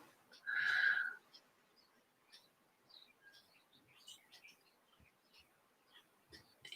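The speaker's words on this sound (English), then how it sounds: "My bird, Squeakers, is on my shoulder listening and watching you colour." A pet bird perched on its owner's shoulder indoors gives soft, scattered chirps and tweets, with one louder, longer call near the start followed by quieter intermittent peeps.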